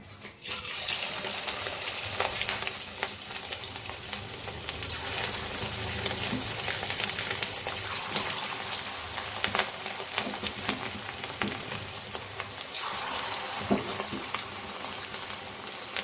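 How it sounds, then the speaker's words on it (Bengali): Fish oil fritters fry in hot oil in a home kitchen, giving a steady, dense sizzle and crackle that runs unbroken for about sixteen seconds with no talking. "মাছের তেলের বড়া করবো এখন"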